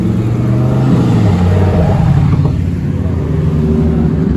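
A Nissan Nismo sports car passes close on a Monaco street, its engine a loud, continuous low rumble that swells and eases slightly as it goes by, over busy traffic noise.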